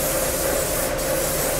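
Enamel paint is sprayed lightly as a guide coat in a car's motor compartment, a steady continuous hiss close to the microphone with no talking.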